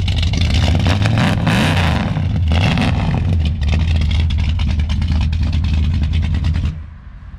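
A cammed hot rod V8 running loud and close through glass pack mufflers, revving repeatedly with a rough, throbbing idle between pulls before cutting off abruptly near the end.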